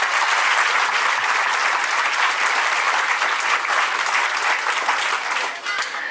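Sustained applause from a crowd of about a thousand people at an outdoor groundbreaking ceremony in Columbus, Indiana, a dense steady roar of clapping holding for the whole stretch and easing slightly near the end.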